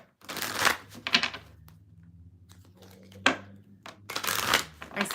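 Close, papery bursts of tarot cards being shuffled, arriving in a few short clusters with quiet gaps and a faint low hum between.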